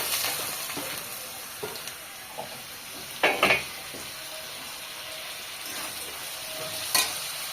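Small fish frying in oil in a home kitchen pan: a soft continuous sizzle with a few louder crackling bursts and scrapes, close by, without speech.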